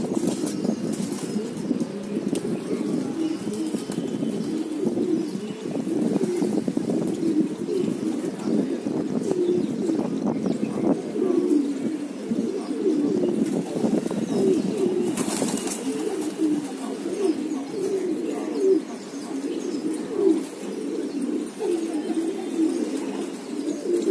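Pigeons coo in low, continuous rolling calls close by, mixed with occasional wing flapping and a short louder burst midway, with no speech over them.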